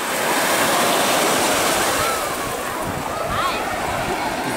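Waves wash onto the shore of Shamora Bay near Vladivostok on a calm day, a broad, continuous hiss of surf close by, loudest at first and easing slightly later.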